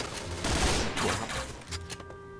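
Rapid automatic rifle fire in the Point Blank shooter game, a loud dense burst of shots in quick succession with no talking.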